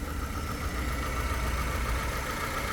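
A car engine idles steadily and evenly, a close, continuous low rumble with a faint mechanical whir and no change in speed.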